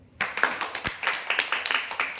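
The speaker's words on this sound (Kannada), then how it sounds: "ಚಪ್ಪಾಳೆ ಹೊಡ್ರಿ" A group of children claps together at a sevashram, making quick, fairly even claps close by for about two seconds with no talking.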